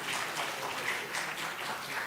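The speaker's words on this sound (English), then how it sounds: "Huge round of applause, please." Steady crowd applause at a conference plenary session, a dense wash of many hands clapping at once, continuous and fairly loud throughout.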